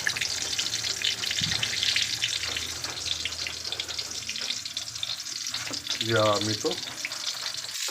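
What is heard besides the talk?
eggplant omelette (tortang talong) frying in a pan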